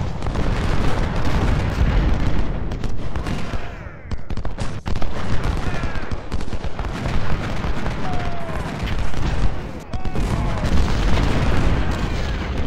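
Dense, continuous battle noise in the video game Ultimate General: Civil War, Gettysburg battle, with heavy booming cannon fire and crackling shots throughout, loud and busy, with brief dips around the middle.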